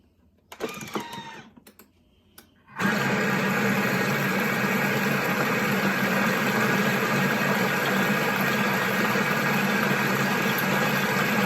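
Kitchen mixer blending buckwheat crepe batter with salt at speed 4, lid on with the measuring cup in; after a few brief clicks and handling sounds it starts abruptly and runs as a loud, steady whirring roar to the end.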